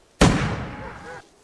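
A single sharp gunshot from hunters near a fishing spot on hunting grounds, a sudden loud crack followed by a long rolling echo that fades over about a second.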